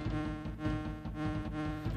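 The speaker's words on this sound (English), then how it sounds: "Take that, bee!" A bee enemy buzzes steadily in Donkey Kong Country, a loud, pulsing, droning hum with a regular wobbling rhythm over game music.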